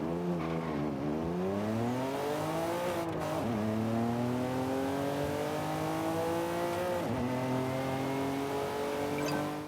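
Mitsubishi FTO GP Version R engine in the Forza Horizon 5 racing game, revving up through rising gear pulls with brief dips at shifts, loud and continuous with no talk.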